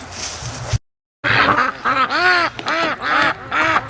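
Free-range ducks quacking loudly near a lake dock, a rapid series of close, raspy quacks in clustered bursts after a brief silent gap.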